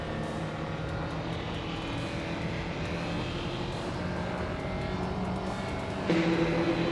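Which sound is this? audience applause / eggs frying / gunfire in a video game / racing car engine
racing car engine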